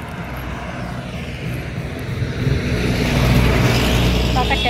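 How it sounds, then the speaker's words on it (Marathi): Steady road traffic on Jalna road, vehicles rumbling past in a continuous broadband wash that swells slightly louder toward the end, with no talk over it. "आता शांत वातावरण आहे, तरी रोडवर एवढ्या गाड्या आहे ना"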